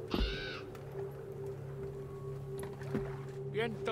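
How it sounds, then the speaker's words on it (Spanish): Crows caw in the video game Assassin's Creed Valhalla, a few harsh calls at the start and end over a low steady game ambience. "Ahí vienen mis cuervos."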